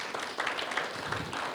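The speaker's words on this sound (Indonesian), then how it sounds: "Kita beri tepuk tangan dulu." Audience applause at a church women's event, a dense, steady wash of clapping heard throughout the short moment.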